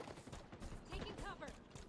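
Mangler pistol fire in the Halo Infinite video game: a faint, busy run of shots and game effects over about two seconds, with voices murmuring underneath.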